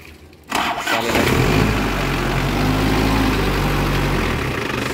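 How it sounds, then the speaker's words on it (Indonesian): An Isuzu Panther engine turns over and fires, then idles with an even, low rumble that holds steady for several seconds. "Suara mesin ini juga masih renyah ya."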